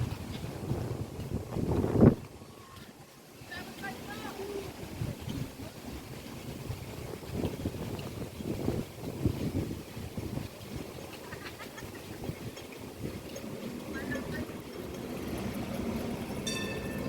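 Gusty wind at Butterfly Beach in Tuen Mun buffets the microphone in uneven rumbling bursts, loud and close, over faint background noise with no voices.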